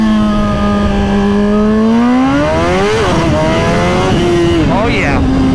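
A 2022 Suzuki Hayabusa fitted with lower gearing accelerates hard, its loud engine climbing in pitch through a gear, then briefly dropping and climbing again in a steady, close roar.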